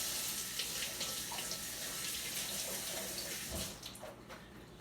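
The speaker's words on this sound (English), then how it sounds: "First thing I do is wet my hand." Tap water runs steadily into a sink as a hand is wetted before stretching sourdough dough, a continuous close splash that thins and turns patchy near the end.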